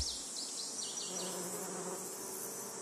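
Bees buzzing in an olive grove, a soft, steady hum of several insects with passing whines as individual bees fly close, faint and continuous against a quiet outdoor background.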